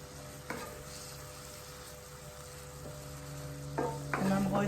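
Garlic is stirred into a frying pan of Mediterranean sini kofte filling, with a steady low sizzle and a few soft scrapes and clinks of the spoon against the pan, growing busier toward the end.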